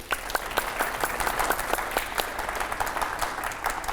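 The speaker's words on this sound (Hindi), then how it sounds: "एक बार तालियां हो जाए इस बात के लिए।" Studio audience applause on a Hindi news debate show about US tariffs, steady dense clapping throughout with individual claps standing out, fairly close and alone without talk.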